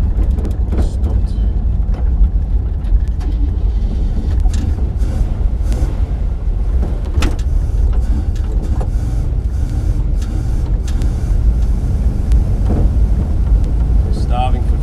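A decades-old car's engine sputters and rumbles as it starves for fuel on its first drive in over 40 years, a steady close rumble with wind buffeting and people talking over it.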